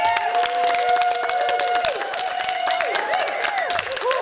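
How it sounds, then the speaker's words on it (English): A theater comedy crowd applauds and cheers for comedian Ted Wilson, a dense wash of clapping with whoops and whistles rising over it, steady and loud throughout. "So please, big round of applause."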